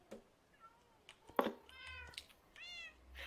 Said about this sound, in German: deine Katzen äh, begrüßen mich gerade